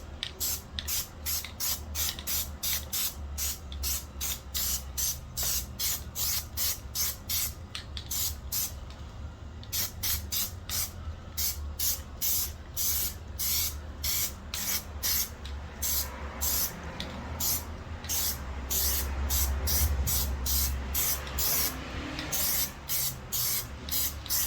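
Plasti Dip sprayed from an aerosol can onto a Dodge Durango roof AC vent as a final coat, heard as a steady run of close, loud, rapid hissing bursts that continue with only a brief pause.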